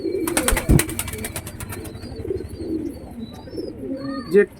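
Domestic pigeons coo at a loft where outside birds have come to feed, with soft repeated throaty coos close by and a person talking faintly in between.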